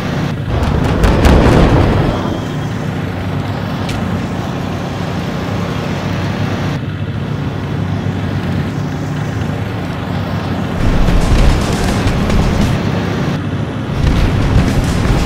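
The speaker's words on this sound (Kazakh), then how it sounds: "Артиллерия." Artillery explosions in a Kazakh-language animated cartoon: loud, heavy booms and a continuous rumbling barrage, with stronger bursts near the start, in the middle and toward the end, and no voices over them.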